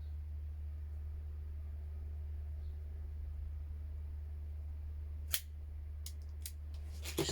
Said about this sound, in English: DuPont cutter, so you got a straight cut on the bottom and obviously the V cut on the top. I'm just going to literally nip